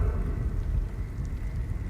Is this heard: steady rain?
yes